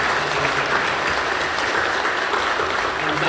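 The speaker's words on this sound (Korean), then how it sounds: "우리 환영하고 또 감사하는 마음으로 박수 한번 해주십시오." A church congregation claps in welcome and thanks during a service, with brief, steady, uniform applause from a crowd at a constant, moderate loudness.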